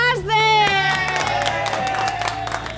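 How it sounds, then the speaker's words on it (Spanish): A crowd at a village gathering claps and cheers for a waitress named Ashton, with a sustained voice and shouts at first, then a steady wash of applause and whoops. "¡Un aplauso para Ashton!"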